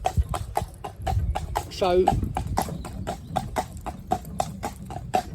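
A driven horse's hooves clip-clop in a quick, even rhythm, close and distinct, with a brief whinny partway through and someone talking over it.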